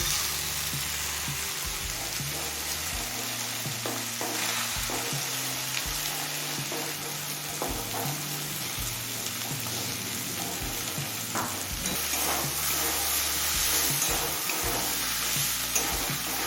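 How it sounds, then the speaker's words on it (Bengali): An egg fries in a wok alongside chicken and snake gourd, giving a steady, close sizzle with repeated scraping and stirring strokes throughout. "ডিমটা একটু ভাজা ভাজা করে নিয়ে চিকেনের সাথে মিশিয়ে নিচ্ছি"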